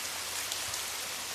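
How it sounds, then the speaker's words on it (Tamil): Heavy rain pours in a constant, dense hiss of drops striking the ground, close and even throughout, with no speech. "இப்போ என்னடா இப்படி மழை பெய்யுது"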